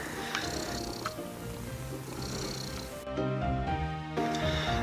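A cat purrs close up in a steady rumbling rhythm, rising and falling with each breath.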